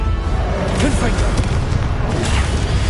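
A booming fire-blast spell explosion from the video game Hogwarts Legacy rumbles loudly and continuously, with a voice calling out over the blast.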